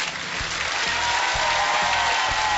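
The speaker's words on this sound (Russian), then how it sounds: "Эти аплодисменты вам!" Studio audience applause on a TV game show, a dense, even burst of clapping at full volume with no gaps throughout the short stretch.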